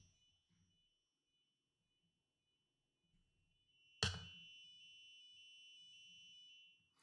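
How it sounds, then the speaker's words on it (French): A sudden loud click followed by a harsh, high-pitched alarm from an Elegoo electronics kit buzzer that beeps in a steady pulsing pattern, with faint room noise before it. "Vous entendez, c'est comme une alarme en fait."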